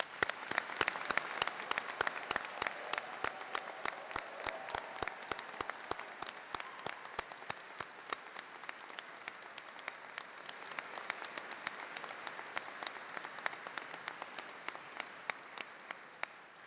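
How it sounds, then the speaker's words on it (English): Audience applause for graduates at a university graduation ceremony, a sustained dense round of clapping from a large crowd filling the hall at steady volume before tapering slightly. "giving them a great big round of applause"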